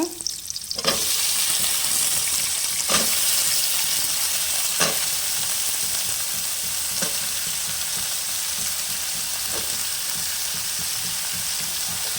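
Onions, curry leaves and brinjal frying in a pan for brinjal gravy give a loud, even sizzle throughout, with a few sharp spatula taps scattered at intervals of roughly two seconds.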